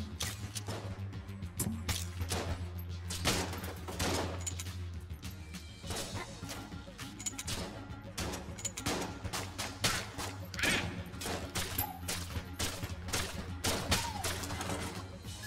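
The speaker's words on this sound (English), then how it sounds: "It shoots the poison through the room, and then you shoot the poison and light it on fire." Rapid gunfire in the video game Enter the Gungeon, from a poison gun that sprays poison across the room to be lit on fire, a dense run of sharp repeated shots with game music underneath and no talk.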